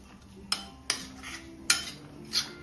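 A spoon scrapes and clinks against a pot while stirring a thick date pickle mixture, giving four sharp metallic knocks spaced unevenly over a soft background rasp.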